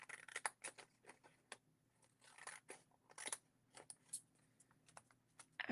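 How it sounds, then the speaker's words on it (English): Small children's scissors snip paper for a junk journal, a quiet run of short crisp cuts in uneven bursts, close up with no talking. "These scissors are so teeny tiny."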